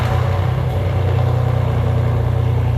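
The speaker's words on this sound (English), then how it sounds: "that's a Porsche Panamera over there running" A base-model Porsche Panamera engine running nearby, a steady, loud, low throbbing rumble that holds an even idle throughout without any speech.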